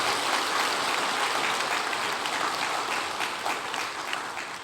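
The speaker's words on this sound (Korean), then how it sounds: "우리 박수 한번 보내고." A church congregation at a Sunday service claps steadily together, dense sustained applause filling the room and slowly tapering off toward the end.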